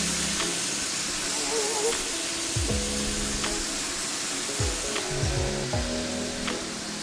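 Steak sears in a hot wok with a steady, fairly quiet sizzling hiss, while a voice talks over it and a few tonal hums come and go.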